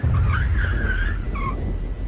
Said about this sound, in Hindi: पर तभी मुझे अपने पीछे गाड़ी के ब्रेक की आवाज़ सुनाई पड़ी।